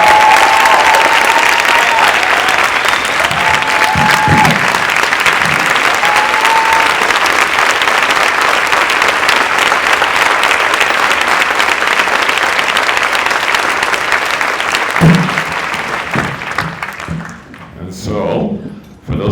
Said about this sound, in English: So please give a round of applause for these two guys.